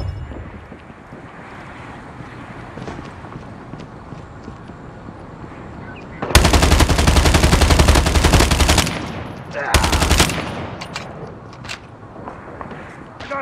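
Gunfire in a Call of Duty Mobile multiplayer match: after a quiet, windy stretch, a long loud automatic burst erupts, then a shorter second burst follows before the sound settles back to low background noise.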